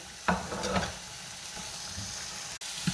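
Onions heating in a pan for moussaka give a quiet, close sizzle, with a couple of soft stirring scrapes early on and a brief click.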